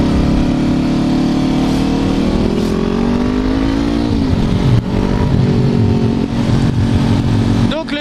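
Red 2016 Honda CBR 500 R sport motorcycle, modified away from stock, revving steadily and loudly up close, its engine note climbing then settling, with people talking over it.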